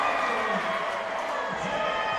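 A gym crowd at an ACC barnstorming basketball game in Franklin, North Carolina roars in a steady, sustained cheer, with voices talking within the din.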